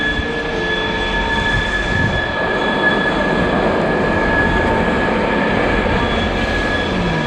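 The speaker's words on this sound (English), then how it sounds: "I'm gonna catch that train." A train rolls past nearby in northern Scandinavia with a loud, continuous rumble and high sustained wheel squeal on the rails, steady throughout with no voices.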